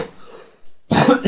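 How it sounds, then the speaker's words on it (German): A coughing fit ends with one harsh, loud cough burst followed by a shorter second one, close to the microphone, after a faint throaty murmur. "Egal, jetzt ist erstmal der Hustanfall weg und wir starten gleich den Fall."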